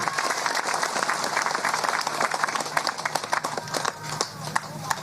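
A crowd at a political campaign rally claps and applauds steadily, a dense wash of hand claps with a few sharper individual claps standing out.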